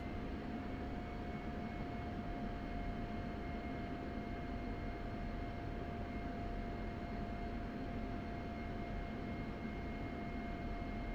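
An F-16 jet taxies in the DCS flight simulator, its engine giving a constant loud roar and whine with steady tones throughout and no talk over it.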